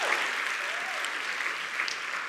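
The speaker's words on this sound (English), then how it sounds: "A round of applause for all the musicals." Steady applause from a theatre awards audience in Cape Town, a continuous wash of clapping at moderate level with no pauses.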